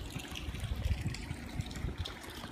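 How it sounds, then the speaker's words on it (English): Cooling water from the air conditioner of a 2004 Four Winns 268 boat pumping out the side of the hull, a faint, steady splashing trickle with no talk. "so that's why there's water pumping out the side right there"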